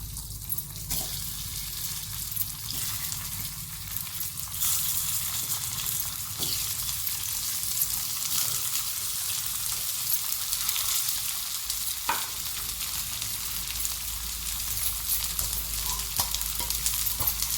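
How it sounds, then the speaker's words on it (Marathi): Poha dough balls frying in hot oil in a heated pan, a steady close sizzle with a bright crackling hiss that runs without pause, a few soft clinks and pops scattered through it and no voices. "तेल आपलं हे तापत आहे भांड पहा तापलेलं आहे आता याच्यात आपण हे केलेले गोळे आहेत ना हे गोळे घालत आहोत"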